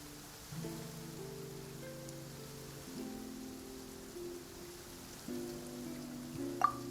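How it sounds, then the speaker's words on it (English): Steady rain falls in Genshin Impact, a soft continuous patter running under calm, sustained musical tones, with a brief bright chime near the end. "It's raining."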